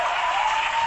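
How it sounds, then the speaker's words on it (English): Brief burst of steady applause for a guest on a comedy podcast, a continuous even wash of clapping with no pauses. "we can have applause for him"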